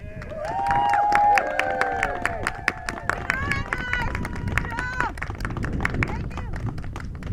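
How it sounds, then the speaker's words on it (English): A crowd applauds and cheers for the seniors of a high school marching band, with scattered claps and loud whoops and shouts rising over the clapping before thinning out. "give the entire band a round of applause"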